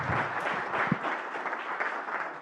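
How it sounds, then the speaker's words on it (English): An audience applauds the speakers at an affordable housing forum, a steady wash of clapping from a crowd that holds at an even level for the whole stretch, with no talk over it. "If we can give them a round of applause"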